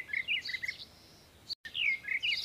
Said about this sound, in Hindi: P for pirate, pirate means तोता।